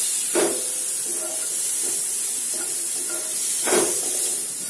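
Finely chopped tomatoes cook in a pan for palak paneer. A steady soft hiss runs throughout, broken by a few stirring scrapes, with no talk.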